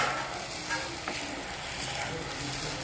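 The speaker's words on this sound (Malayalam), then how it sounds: "നല്ലോണം ഒന്ന് വേവട്ടെ ഇഞ്ചിയും വെളുത്തുള്ളി" Chopped ginger and garlic fry in a pan, giving a steady close sizzle with faint stirring scrapes throughout and no speech.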